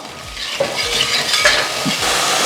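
Curry leaves and shallots frying in hot oil for a Kerala fish curry, a close steady sizzle with a few soft scraping stirs of a spoon in the pan.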